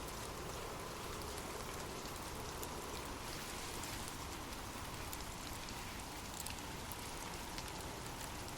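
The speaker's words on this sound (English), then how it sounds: "drift off to sleep with rain" Steady rain falls continuously, a dense, even hiss of drops on surfaces with no gaps, no voices, and no change in loudness throughout.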